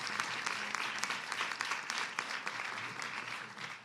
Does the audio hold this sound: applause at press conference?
yes